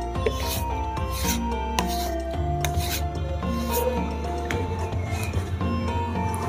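Fine leather rubbed along a spring steel blade, a steady, close, continuous rasping friction with rhythmic strokes throughout.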